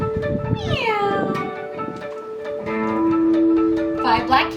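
A voice imitates a cat, stretching out a couple of drawn-out, sliding meows during a Halloween children's story reading about black cats, close and clear with soft breathy pauses between calls.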